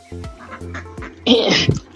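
Muscovy ducks kept for rearing give a few short, soft hissing calls, then a louder, breathy burst of vocalizing close by.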